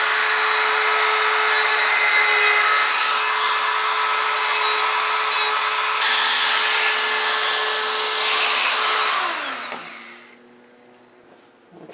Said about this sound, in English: I'm using a 150 grit to get rid of some of these burn marks and just kind of shape some of these edges a little bit